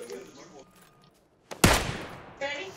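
A loud gunshot burst erupts in PUBG, a sharp broadband blast with a decaying tail, then a second shot rings out near the end while a voice talks quietly beforehand.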